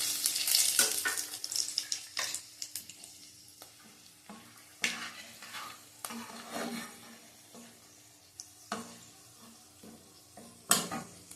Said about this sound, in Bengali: জিরে ফোড়ন দিলাম, তেজপাতা ফোড়ন দিলাম, একটা শুকনো লঙ্কা দিলাম, গোটা গরম মশলা দিলাম